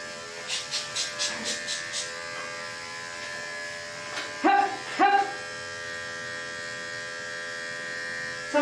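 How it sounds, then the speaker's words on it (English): Electric clippers buzzing while grooming a dog's short hair, a steady close hum with short humming bursts starting and stopping, brief louder whirring as the blade hits the coat, and a person speaking now and then. "So you need your clipper blade to go reverse on certain parts of the hair in order to get it"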